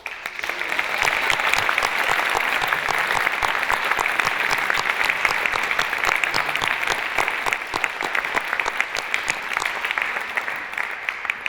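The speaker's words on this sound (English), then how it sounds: "I'd like to have a loud applause for our judges" An audience at the 2013 New Jersey Poetry Out Loud state finals applauds the judges, with loud, sustained clapping from a large crowd filling a theater hall for more than ten seconds.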